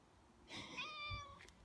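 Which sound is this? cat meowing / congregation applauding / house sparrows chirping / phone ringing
cat meowing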